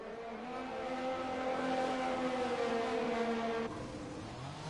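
Race cars leave the pit lane in a Mexico Grand Prix racing video game, their engines droning steadily with slowly shifting pitch, fairly quiet, before the tone drops away abruptly near the end.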